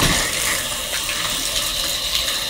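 Water gushes steadily from a bathtub tap fed by an off-grid gravity water system, a continuous close hiss with no talk.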